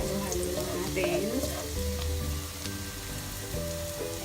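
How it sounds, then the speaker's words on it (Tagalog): Pork sautéing in a pan for a pork mechado stew, a steady close sizzle and crackle of frying with occasional stirring scrapes running throughout. "So we're gonna saute it and wait for it until it turns to golden brown."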